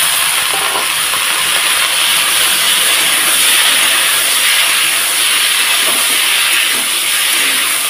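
Washed vegetable stalks hit a hot pan with tomato in a home okra dish. They set off a loud, steady sizzling hiss that continues unbroken throughout.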